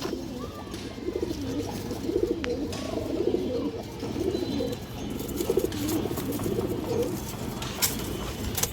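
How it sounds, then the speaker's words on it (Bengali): A tournament pigeon coos repeatedly up close, soft throaty rolling calls in irregular bursts over a low background hum, with a few faint clicks and rustles. "অনেক সুন্দর একটা কবুতর মাশাআল্লাহ"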